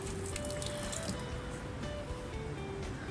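Water trickles and drips steadily from the drain of a newly installed water tank on a Smittybilt Scout vehicle trailer, a quiet, continuous flow with faint splashing and no voices.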